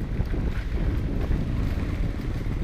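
Wind blowing steadily outdoors across a four-rai herb garden at a learning centre, a continuous rumbling gust noise buffeting the microphone with no talk.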